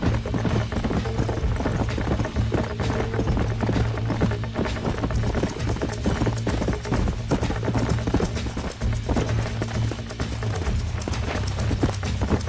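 Horse hooves gallop in a fast, steady drumming rhythm through open country in Red Dead Redemption, loud and close, running on without pause for the full stretch.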